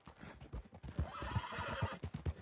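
Horse hooves clip-clop in a steady, close rhythm in Red Dead Redemption 2, with a whinny rising above the footfalls midway through.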